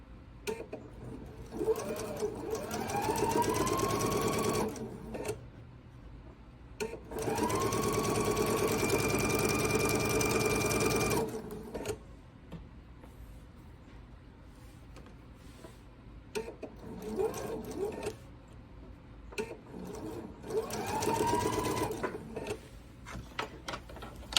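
Quilt blocks for a seaside quilt are chain-pieced on a sewing machine, heard as several separate bursts of fast, even stitching with quiet pauses and soft handling noises between the runs.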